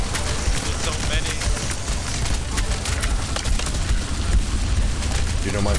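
In the video game Tower Unite, gunfire and grenade launcher blasts pile into a dense, loud, chaotic barrage of rapid shots and booms, with voices talking over the fight.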